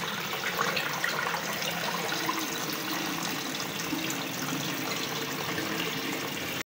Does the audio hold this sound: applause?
no